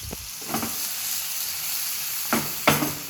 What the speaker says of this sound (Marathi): त्याच्यामध्ये आपण सगळा हा कांदा टाकून घेणार आहे